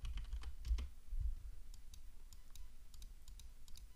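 Quiet, close typing on a computer keyboard, scattered irregular key clicks with a few heavier taps near the start.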